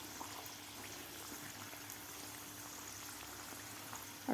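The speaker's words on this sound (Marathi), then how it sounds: "मिडियम गॅसवरच आपल्याला व्यवस्थित तळायची आहे सांजुरी." Rava sanjori, sweet semolina-stuffed puris, deep-frying in hot oil over a medium gas flame, giving a steady, even sizzle and bubbling that holds at the same level throughout with no talking.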